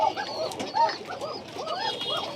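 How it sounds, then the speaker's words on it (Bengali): Pigeons on a crowded pigeon farm coo in repeated, overlapping rolling phrases, with the soft calls of many birds layered together throughout at moderate distance. "এখানে অনেক কবুতর আছে"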